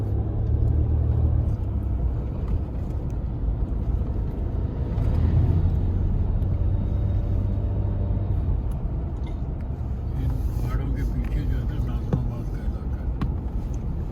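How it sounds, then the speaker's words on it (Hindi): A truck drives through an industrial area, a continuous low engine rumble that swells and eases slightly at moderate distance, with faint voices in the background. "इंडस्ट्रियल एरिया चल रहा है, वहाँ ट्रक चल रहा है।"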